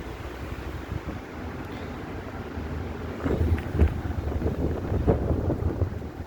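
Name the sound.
wind blowing on a hillside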